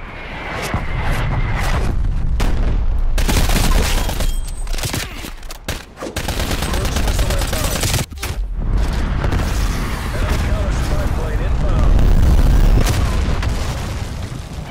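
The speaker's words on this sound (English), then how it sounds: "Artillery inbound." Artillery strike explosions in the Call of Duty video game, a loud, dense barrage of booms and blasts rolling almost continuously, with brief gaps between volleys.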